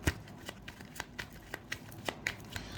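Tarot cards being shuffled by hand, producing a close, rhythmic series of soft riffling snaps about every half second, with no speech.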